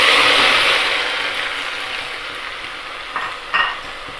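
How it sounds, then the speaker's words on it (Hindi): Onion drops into hot reddened oil for vermicelli, setting off a loud, close sizzle that starts strong and gradually settles, with a couple of brief stirring clinks near the end. "अब इसमें मैं डाल रही हूँ सीधा प्याज"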